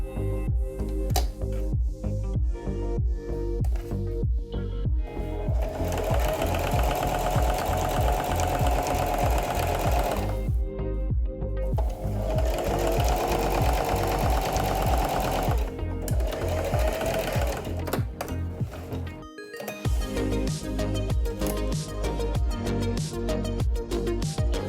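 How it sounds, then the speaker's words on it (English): A sewing machine runs steadily and loudly while stitching a cat-eared hat, its rapid mechanical stitching rhythm continuous with only a couple of short pauses. "you can use your sewing machine to sew the ears and the hood"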